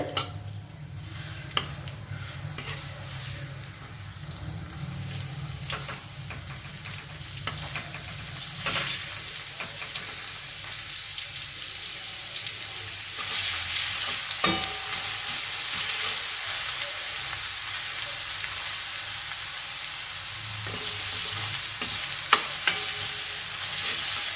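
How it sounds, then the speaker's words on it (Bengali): Grated garlic and chilli frying in oil, a continuous bright sizzle that grows slightly louder over time, with occasional scrapes of a stirring spoon against the pan, close and without talk. "এই গ্রেট করা রসুনটা আর লঙ্কাটা কিন্তু আমাদের তেলেতে সুন্দর করে ভেজে নিতে হবে"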